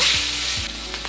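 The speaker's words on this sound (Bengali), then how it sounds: "আমি চিংড়ি মাছটাকে ভেজে নেব।" Prawns hit hot mustard oil seasoned with turmeric and salt, giving a loud, bright frying hiss that eases slightly after the first moment, with a couple of soft stirring knocks and no talk.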